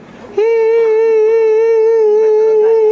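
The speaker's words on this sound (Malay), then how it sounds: "Anjing tu beranak bunyi macam tu." A dog giving birth lets out one long, loud, sustained howl that starts abruptly and holds a steady, slightly wavering pitch close to the listener, after a brief murmur beforehand.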